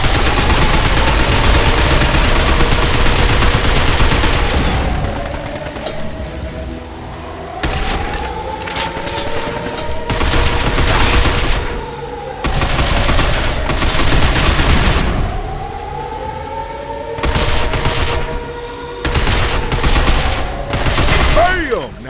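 Rapid automatic gunfire cutting down robots in the 2012 video game Binary Domain, with repeated loud bursts separated by short pauses over a constant battle backdrop and whining mechanical sweeps.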